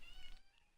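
A pet cat named Gremlin lets out a single short, faint meow nearby, alone and quickly fading.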